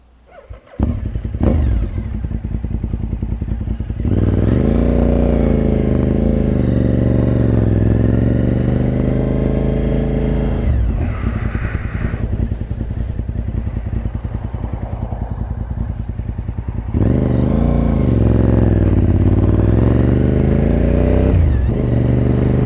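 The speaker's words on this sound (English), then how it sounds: "I'm just going to get on her and go for a bit of a ride" A Honda RC51 motorcycle engine runs loud and close throughout, rising and falling as the rider accelerates and shifts, with a brief idle-like dip midway before revving up again.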